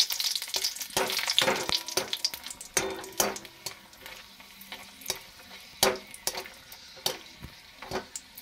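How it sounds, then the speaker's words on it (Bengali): Four dried red chillies frying in hot oil for panta bhat, with a busy crackling sizzle broken by repeated sharp spatula scrapes and clinks against the pan, close and alone without voices. "শুকনো লঙ্কাটা আমি ভেজে নিচ্ছি"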